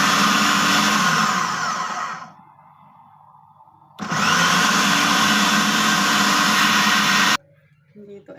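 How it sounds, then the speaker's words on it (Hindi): A kitchen blender grinds boiled chickpeas with the other falafel ingredients, running in two loud, steady bursts of about two and three seconds with a short quiet gap between them. "तो तमाम चीज़ें ब्लेंडर में डाल के हम ब्लेंड करते हैं"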